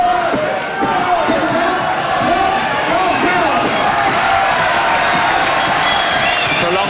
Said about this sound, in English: Prolonged applause.